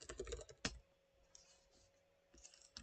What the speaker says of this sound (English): So just press the Windows key like this one and type features.